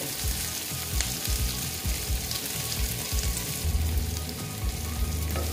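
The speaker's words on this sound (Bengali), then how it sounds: "দেখো পেঁয়াজটা আমি এটা ভেজে নেব।" Onion frying in a pan sizzles steadily, with soft stirring scrapes and bubbling pops repeating under the hiss, close and fairly even throughout.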